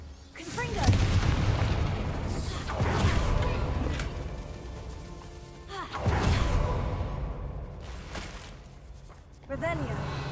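Confringo fire spell blasts in the video game Hogwarts Legacy, several booming explosive bursts a few seconds apart with whooshing tails, heard under a voice speaking.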